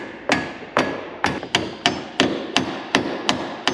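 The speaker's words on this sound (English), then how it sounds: "the only way to do it is to pound it in place" A clevis bolt is hammered into place on an airplane wing stand, with nine sharp metallic blows struck at a steady pace, loud and close, each ringing briefly.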